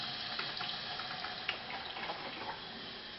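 A drip coffee maker brews morning coffee with a steady, close trickling hiss and a few soft drips scattered through it. No one speaks.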